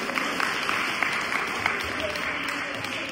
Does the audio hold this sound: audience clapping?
yes